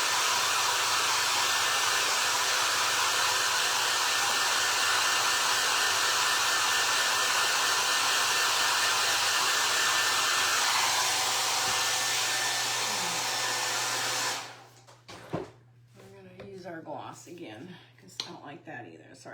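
A hair dryer blows loud and steady while drying handmade primitive faux apples for Halloween, a continuous close whoosh that cuts off abruptly near the end, followed by a person talking.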